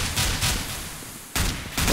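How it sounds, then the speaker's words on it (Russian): Intense gunfire rattles in Counter-Strike on the Overpass map during a tournament match, dense bursts of automatic shots that pause briefly and then resume loudly, with no voices heard. "Ну, какая-то стрельба жесткая."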